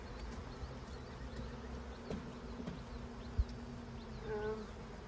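Bees buzz steadily around an open beehive during a summer inspection in hot weather, a close continuous drone with individual insects passing near, with no talk.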